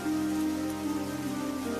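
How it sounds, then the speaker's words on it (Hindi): Heavy cartoon rain pours in a steady, dense wash with no talk, holding an even level throughout the short stretch. "लेकिन दोस्त, अब हम वहां वापस नहीं जा सकते, क्योंकि बारिश बहुत ज्यादा तेज हो गई है।"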